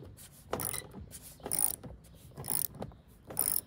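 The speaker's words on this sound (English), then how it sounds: "Then I'm loosening up the one that feels the tightest first." Wrench loosening roof rack bolts on a Lexus GX, four spaced bursts of ratcheting clicks close by, quiet and rhythmic with short pauses between, no talking.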